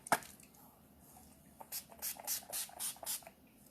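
A setting spray bottle is pumped repeatedly toward a face during Halloween makeup, giving a quick series of soft, close hissing spritzes in an otherwise quiet room.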